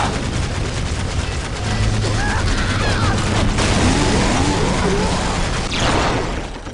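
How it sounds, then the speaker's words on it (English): Loud, dense volleys of gunfire rattle almost nonstop during a battle in Warhammer 40,000: Dawn of War – Dark Crusade, Chaos forces attacking an Ork stronghold, with bursts overlapping into a chaotic, roaring barrage. "We are taking fire!"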